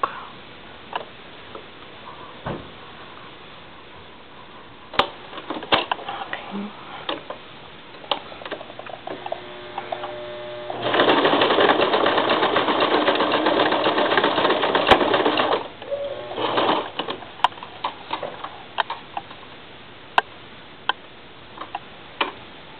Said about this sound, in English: I'm going to do a zigzag stitch at the top because that's going to show